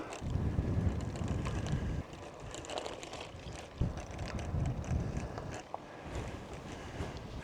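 Wind gusts across a hilltop at the Cerje peace memorial in the Karst, Slovenia, producing a steady low roaring rumble on the microphone that swells and dips in gusts for the whole stretch, with no voices.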